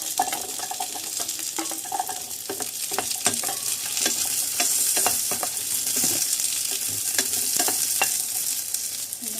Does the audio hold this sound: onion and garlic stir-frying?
yes